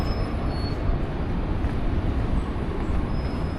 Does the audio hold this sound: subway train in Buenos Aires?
yes